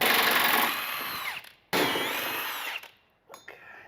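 On a Jeep JK, a power tool whirs loudly in two long runs while it pulls out bent bolts, its pitch sliding as it loads up, with a short final burst after a pause.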